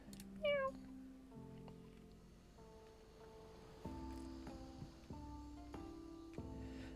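Sand cats in the video game Reus 2 let out a clear, rising meow near the start, followed by soft melodic game tones stepping through several notes.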